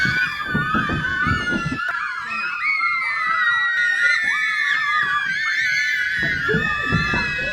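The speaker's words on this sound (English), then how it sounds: "Stop screaming. Don't scream." A loud, shrill scream wavers and rises, holding almost continuously for several seconds with only brief breaks, close and dominant over faint background noise.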